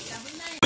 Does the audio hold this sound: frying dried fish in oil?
yes